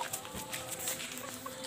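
A four-month-old chicken clucks in short soft bursts, fairly close, with faint scratchy background and no talk.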